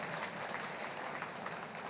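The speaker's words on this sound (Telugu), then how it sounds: "ఒకసారి గట్టిగా క్లాప్స్ కొడదాం" An audience at a spiritual talk about Brahmarshi Patriji claps together, a dense, steady wash of hand claps that fills the whole moment without any voice over it.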